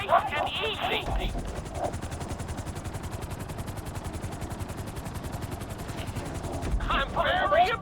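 A helicopter in GTA V sets down on a landing pad, its rotor chopping in a fast, even pulse beneath a continuous engine drone, with gunfire-like bursts of noise at the start and end.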